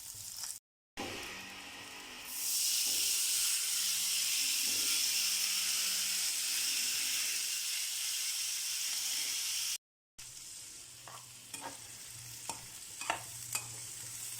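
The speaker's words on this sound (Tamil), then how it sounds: "இந்த கொள்ளு எடுத்து நம்ம இதில் கொட்டிக்கலாம்." Horse gram tipped into a pan of fried chilli, onion and mustard seeds sets off a loud, steady sizzle and hiss, with brief dropouts and a few scraping stirs near the end.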